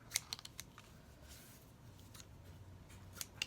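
Scissors snip through paper during a craft cutting session, a few short crisp cuts near the start and again at the end, quiet and close with soft rustling in between.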